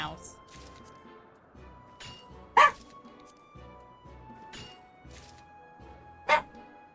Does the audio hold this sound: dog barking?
yes